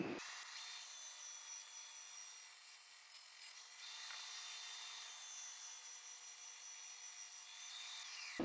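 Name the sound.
cutting a piece of mesquite wood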